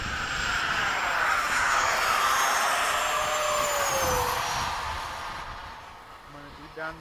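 A Freewing 90mm F-22 radio-controlled jet flies after sunset alongside a Freewing 90mm Yak-130, its ducted-fan engine whining and roaring steadily overhead before fading a little, with people talking nearby.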